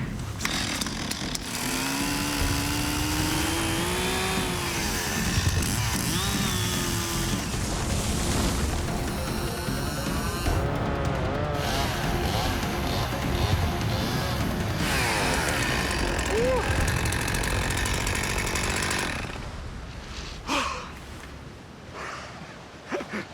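A chainsaw roars continuously at close range, its engine pitch rising and falling as it bites into a tree trunk in snow, then drops off near the end.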